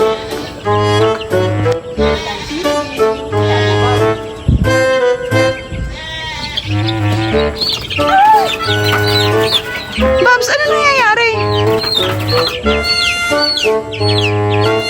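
Loud, close chicks peeping rapidly alongside a hen's repeated low clucks, continuous throughout over faint background noise. On a farm.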